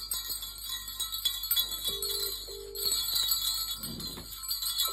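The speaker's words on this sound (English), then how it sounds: "they've got jingle bells on the bottom. You know, you shake them and they sound like Santa coming" Small jingle bells on the bottom of hanging Christmas tree decorations shaken by hand, giving a faint, steady high tinkling with a couple of brief brighter bell tones, heard alone.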